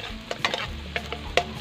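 Garlic and onion sauté in a pan for pork chao fan, giving a close, steady sizzle broken by a few light clicks and scrapes of stirring.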